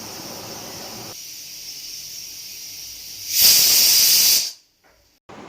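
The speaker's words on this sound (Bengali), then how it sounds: "প্রথমে আমি গ্যাসের ফ্লেমটা হাইতে করে একটা সিটি দিয়ে দেব।" A pressure cooker boiling dal on a high gas flame gives a steady hiss that rises into a loud, harsh whistle of escaping steam for about a second, then cuts off sharply, with a brief faint hiss after.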